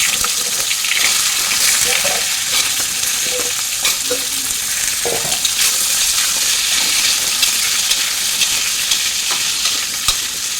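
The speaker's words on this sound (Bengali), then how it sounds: "এবার আলুটা একটু ভাজা ভাজা করে নেবো" Potatoes fry in a pan over a cumin and asafoetida tempering, a constant bright sizzle with occasional spatula scrapes and stirring knocks throughout.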